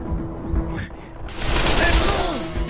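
Gunfire from the video game Call of Juarez: The Cartel, with a couple of sharp low thumps early on, then a denser burst of shots over game noise and a low hum.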